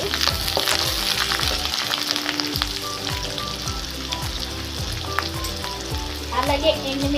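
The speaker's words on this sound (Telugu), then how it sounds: "ఇప్పుడు అల్లం వెల్లుల్లి కూడా వేసుకోవాలి. దాంతోపాటు కరివేపాకు పట్టుకొని కలుపుకోవాలి." Ginger, garlic and fresh curry leaves fry in hot oil for a Telugu okra tamarind stew, a steady close sizzle broken by repeated scraping stirs of a spoon against the pan, with no voices.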